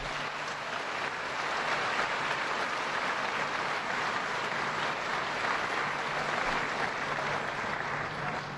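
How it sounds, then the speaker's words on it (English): A large audience at a State of the State address in Buffalo applauds legislators, with dense, sustained clapping that holds at an even loudness for several seconds. "let's give them a round of applause"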